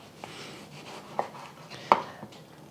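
A knife cutting tomatoes on a cutting board, with a few soft taps and one sharper knock against the board among quiet scraping, close and clear.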